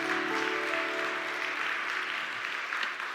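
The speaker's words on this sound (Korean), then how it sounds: "우리 크게 우리 박수로 격려하도록 하겠습니다" A congregation at a Sunday church service claps warmly and steadily for several seconds, the applause filling the room evenly, with faint tones underneath at the start.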